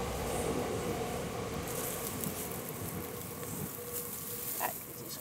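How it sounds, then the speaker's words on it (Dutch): A train passes on a railway line beside a potato field, a continuous rumbling roar with a faint high whine that stays steady and fairly close for the whole stretch, without speech. "Er komt even een trein langs, want er zit hier aan het spoor."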